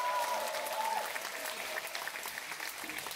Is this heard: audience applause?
yes